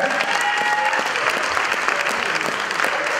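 Loud, dense clapping from a large church congregation, continuous and energetic throughout, with a faint tone lingering underneath.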